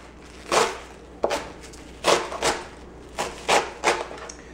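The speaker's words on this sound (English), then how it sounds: "So now what I'm going to do is go ahead and slice these." A knife chopping through stacked, destemmed collard green leaves on a cutting board, sharp crisp cuts in uneven pairs and triplets, close and distinct with no talking.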